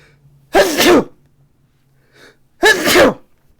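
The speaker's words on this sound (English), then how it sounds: "Oh, I just sneezed." Two separate human sneezes, each a sharp loud burst, roughly two seconds apart, with near-quiet in between apart from a faint low hum.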